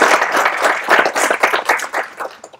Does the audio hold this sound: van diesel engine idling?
no